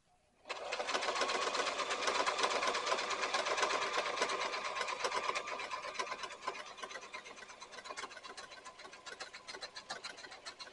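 A sewing machine stitching an over-the-seat rifle carrier starts after a brief pause and runs with a close, steady mechanical whir for about ten seconds, easing slightly near the end.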